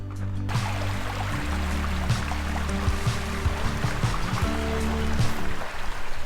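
A waterfall on Hunt Falls Trail, near Seven Bridges Trail, gives a steady, loud broadband rush of falling water that holds constant throughout with no pauses.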